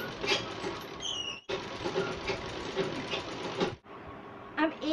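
A sewing machine runs steadily while stitching the corner of a suit's front neck design, a continuous close mechanical whir with a short pause near the middle and a brief stop toward the end.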